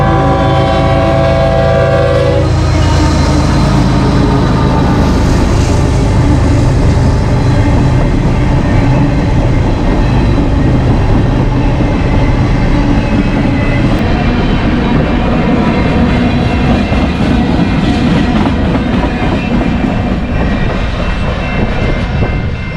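A short freight train led by a single locomotive passes close by in Lomira, Wisconsin, opening with a loud horn blast and then a long, steady rumble and clatter of wheels on rails.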